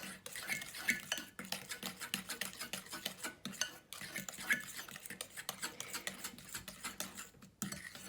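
Butter tart filling being stirred by hand with a fork and a regular spoon, giving quick, light clinks and scrapes of metal against a bowl in an uneven rhythm, close and fairly quiet.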